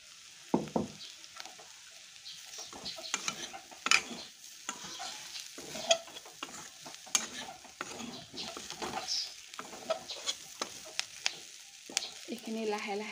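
Chicken pieces frying in a kadai over medium gas flame with small potatoes, a steady close sizzle broken by frequent scraping and stirring clatter of a spatula against the metal pan, with little or no talk.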